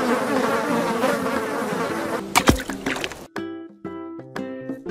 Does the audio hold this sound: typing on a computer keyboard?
no